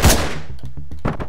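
Shotgun blasts in the top-down action game Hotline Miami: one loud, punchy shot followed by a quick series of sharper, lighter gunfire bursts, close and dry, with no talk over them.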